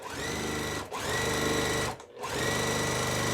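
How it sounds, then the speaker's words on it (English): A sewing machine stitches quilt block pieces in fast, steady mechanical bursts. It stops briefly twice before running on, loud and close, with no talking. "I'm just gonna put it on top and sew this."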